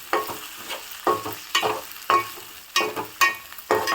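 Flat beans and potato frying in oil, with repeated stirring scrapes at about half-second intervals over a steady close sizzle and no talking.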